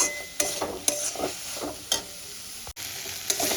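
Potato pieces frying with spices in a pan over a raised gas flame: a steady close sizzle with repeated scraping stir strokes, one brief dropout near the end, no voices.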